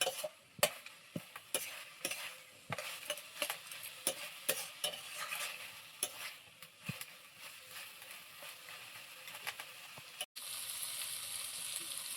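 Banana flower fries in a pan with fish head and green chilies, a steady sizzle punctuated by repeated scraping strokes of a spatula stirring the mixture, close and moderately loud with no talking.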